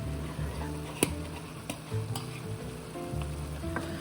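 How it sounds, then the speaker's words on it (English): Minced onion and garlic fry with meat in a pan, a steady sizzle under scraping stirs and a few sharp utensil knocks against the pan, close and fairly loud throughout. "I'm just gonna mix this around and let the minced onion and garlic just finish cooking with the meat"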